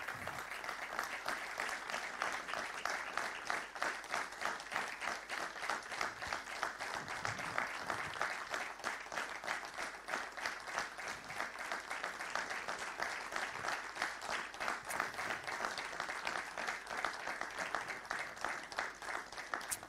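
A minute of tribute applause at a French national-league football awards ceremony, sustained even clapping from a large audience, steady and fairly faint without pauses.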